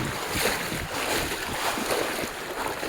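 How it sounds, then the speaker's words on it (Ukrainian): Pacific Ocean surf rolls onto a wild, deserted beach on Ishigaki in Okinawa, a loud continuous wash of waves mixed with wind buffeting the microphone. "Тихий океан."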